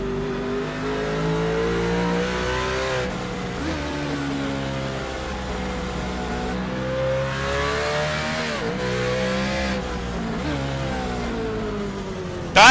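Onboard a Gen 6 race car lapping Laguna Seca, the engine roars continuously close-up, pitch climbing through gears with brief lifts and shifts, no voices over it.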